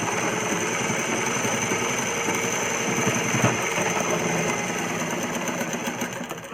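Sewing machine stitching frock fabric for an umbrella-style child's dress, a rapid continuous buzzing clatter running steadily at close range and easing slightly toward the end.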